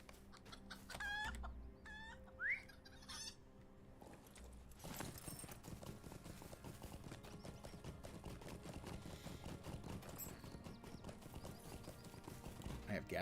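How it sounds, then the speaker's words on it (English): Chickens cluck and crow in a scene from the game Lord of the Rings Online, close and clear at first. Then hooves clip-clop steadily under a faint voice. "I have gathered up 2 chickens."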